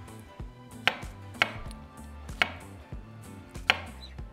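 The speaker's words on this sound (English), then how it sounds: "the other half I'm going to be cutting into small little cubes" Knife chops through cantaloupe on a cutting board, cutting it into small cubes, five sharp cuts at an uneven pace over a low background hum.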